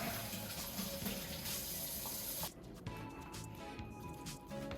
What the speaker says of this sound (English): wash your hand with the soap and water